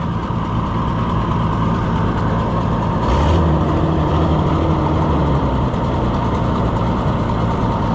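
An old junkyard Oliver Super 77 tractor engine idles steadily nearby, a continuous low rumble with a brief, slightly louder surge partway through.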